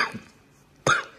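A person coughs twice nearby, a short cough followed by a louder, harsher one after a brief pause.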